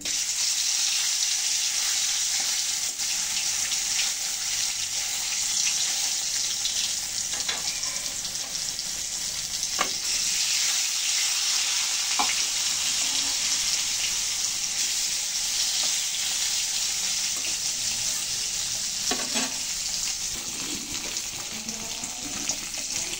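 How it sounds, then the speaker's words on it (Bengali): Small China puti fish fry in a pan with a loud, continuous hiss and crackle of hot oil, close up, with occasional clinks and no talking. "এখন মাছগুলো ভেজে নিচ্ছি।"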